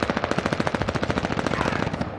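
Rapid, sustained SMG fire in Warzone on Rebirth Island, a dense burst of closely spaced shots rattling loud and near for a couple of seconds with no talk over it.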